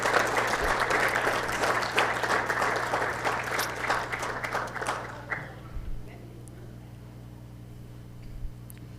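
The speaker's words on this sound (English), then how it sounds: "Let's give a great round of applause for them as they come forward." Applause from the audience at a city mayor and council meeting, a dense burst of clapping that fills the room for about five seconds, then thins out and fades to scattered claps and quiet room tone.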